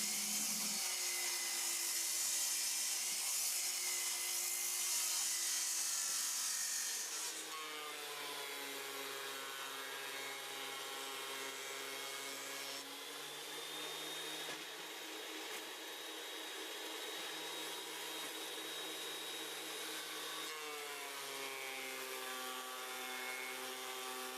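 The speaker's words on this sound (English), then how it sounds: "I'm going to start by cutting this piece down so I can run it through the planer." An oak board is cut down and then fed through a planer in a woodshop. A loud, high whining cut gives way after a few seconds to a steady droning machine hum that holds with slight shifts in pitch.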